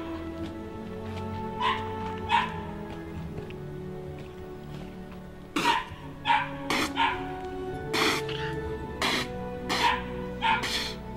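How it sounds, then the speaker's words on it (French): A Pyrenean Shepherd dog barks and yips excitedly in short bursts, close by, with whimpering between the barks over a steady low background hum. "Tout à l'heure était un chien qui aboyait, qui s'excitait"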